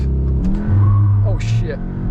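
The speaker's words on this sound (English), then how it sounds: "So hold the brake, hold plus and minus, punch it, launch control active." A 2021 Cupra Formentor VZ launches hard at night, engine note surging and climbing through a quick shift with a brief tyre chirp, loud and close from inside the cabin while a voice talks over it.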